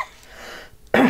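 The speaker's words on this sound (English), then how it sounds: "This glue has been making me cough lately." One person's short, harsh cough, close and loud, from glue fumes while crafting, coming abruptly after a quiet stretch.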